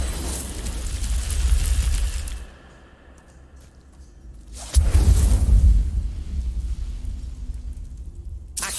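A fire spell cast in the video game Hogwarts Legacy bursts into two loud roaring whooshes with a deep rumble, separated by a quieter lull, the second blast landing sharply and trailing off into a sustained crackling roar.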